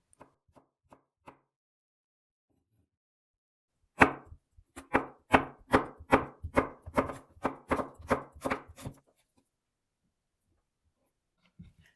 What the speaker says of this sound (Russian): Далее беру один средний огурец и нарезаю полуслайсами.